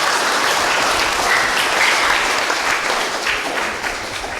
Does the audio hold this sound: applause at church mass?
yes